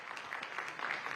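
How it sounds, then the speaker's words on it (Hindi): Brief burst of audience applause welcoming a guest, Olympic medal-winning wrestler and politician Yogeshwar Dutt, onto a televised election discussion stage in Haryana, dense and fairly close for about a second. "तालियों से उनका स्वागत करें।"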